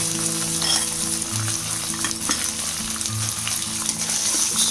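Curry leaves and a pinch of asafoetida with a broken dried red chili fry briefly in hot oil for tomato rice, giving a loud, steady close sizzle with faint stirring scrapes over a low hum.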